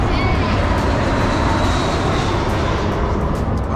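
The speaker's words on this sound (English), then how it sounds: "Here comes Spirit Airlines." A Spirit Airlines airliner roars loudly overhead in a continuous, close, broadband rumble that fills the whole moment.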